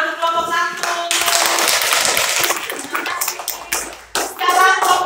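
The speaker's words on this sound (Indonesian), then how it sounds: "Tepuk tangan untuk kelompok satu." Children in a school classroom clap together for the first group, a dense burst of applause lasting several seconds, with young voices calling out at the start and end.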